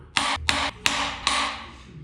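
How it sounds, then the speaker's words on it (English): Four sharp metallic clangs of one hammer struck against another, each a bright ringing impact that decays for a moment, spaced unevenly about a third of a second apart, close and fairly loud during work on a bell housing. "don't hit a hammer with another hammer."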